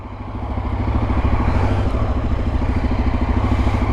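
A motorcycle engine runs steadily close by, a low throbbing idle with a rattling clatter that swells a little after the first second and then holds at a constant level, with no voices over it.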